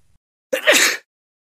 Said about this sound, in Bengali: এই সামান্য হাঁচি কাশি